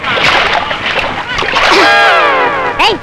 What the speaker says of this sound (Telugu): ఎందుకు నా మీద నీళ్ళు పోసా?